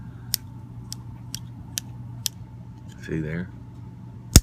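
Folding knife with a pull ring and several detent stops, its blade clicking through each stop in a series of sharp, evenly spaced ticks, with a steady hum behind, a brief voice and a final louder snap.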